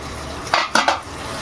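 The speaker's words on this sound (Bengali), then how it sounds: "একবার ঢাকা দিয়ে ঢাকনাটা তুলে দেখে নেব কেমন হয়েছে কষানোটা" A lid lifted off a cooking pot where gathi kochu is being fried down, a brief metallic clatter in two or three quick knocks over a low background hiss, close and fairly loud, no speech.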